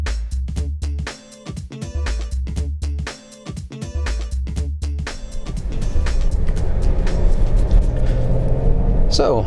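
A 2015 Volvo XC90 D5 diesel SUV drives a twisty road, its engine and tyre rumble steady and close under a presenter's continuous talk, with road noise building in the second half.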